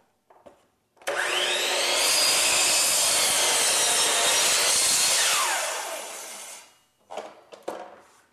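A miter saw makes a bevel cut through a wooden workpiece: the motor spins up with a sudden whine, bites into the wood for about five seconds of loud rasping cut, then winds down, followed by brief knocks.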